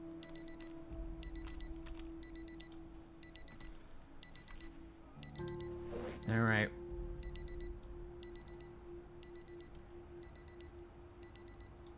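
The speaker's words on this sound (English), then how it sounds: "Ignore the beep beep beeps." An electronic alarm beeps in repeated quick bursts at a steady interval, moderately loud and continuing throughout, while someone talks briefly over it.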